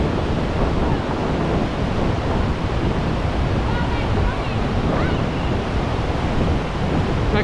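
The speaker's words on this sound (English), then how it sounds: "That current is so strong." A strong river current roars steadily on a waterfall hike at Horsetail Falls near Lake Tahoe, loud and constant, with wind buffeting the microphone throughout.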